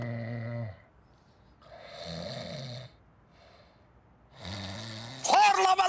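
A man snores in slow, heavy cycles, with loud rasping inhales separated by quiet pauses, followed at the end by a sudden sharp outburst.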